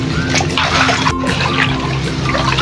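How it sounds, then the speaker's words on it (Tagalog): Water runs weakly from a tap in a bathroom during a flood, a continuous splashing trickle into a basin or bucket that stays loud and close throughout. "Kasi mahina lang po kasi yung tulo namin. Tulo ng tubig, mahina lang."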